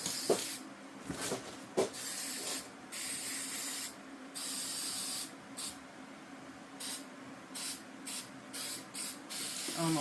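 Rust-Oleum hammered spray paint hisses from an aerosol can onto holiday decor in repeated short and longer bursts, close by, with brief pauses between sprays.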